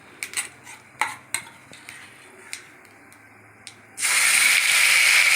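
Dried red chillies and cumin are stirred in hot oil in a pan: a few sharp metal clinks and scrapes come first, then a sudden loud, continuous sizzle takes over.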